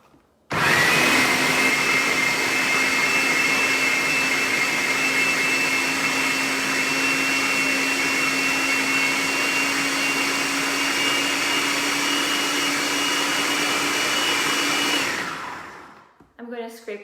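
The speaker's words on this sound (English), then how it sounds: "And then I'm going to resume blending this." Frozen banana nice cream whirring loudly in a blender, a steady high-speed motor roar that runs continuously for about fifteen seconds, then cuts off with a few faint clatters.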